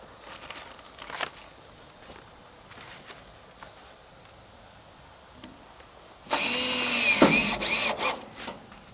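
A power drill drives a screw into a high tunnel frame during side curtain installation: a loud whirring burst of about two seconds near the end, following quiet handling clicks and faint taps.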